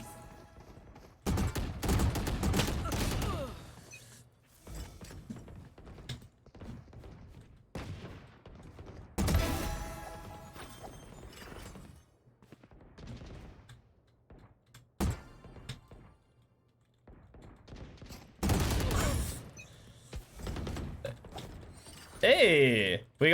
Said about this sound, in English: I have this bad habit of shooting 3 bullets during my burst